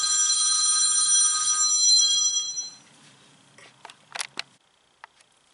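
A cell phone ringing with a bright, bell-like electronic ringtone for about two and a half seconds, then cut off, followed by a few soft clicks and taps in a quiet room.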